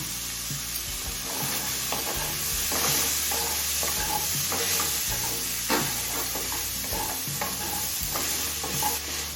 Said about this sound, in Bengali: গোটা গরম মশলাটা দিয়ে আরও দু তিন মিনিট একটু ভেজে নিয়েছি